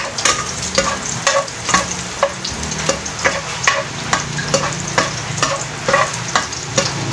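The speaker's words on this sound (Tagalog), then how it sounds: "Ibutang ko ang ahos." Garlic frying in a pan for bihon guisado, a steady loud sizzle broken by repeated rhythmic scrapes and stirs of a utensil, with no talking.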